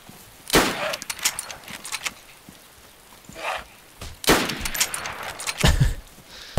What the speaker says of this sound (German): Du hast viermal geschossen und nur einen Schuss verbraucht.